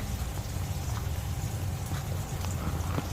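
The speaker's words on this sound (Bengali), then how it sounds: "এবার আমি রসুন আর লঙ্কাটাকেও বেটে নেবো" Garlic and green chili are ground on a traditional grinding stone for Bengali fish curry, a continuous close, gritty rubbing and knocking in a steady rhythm that fills the whole moment.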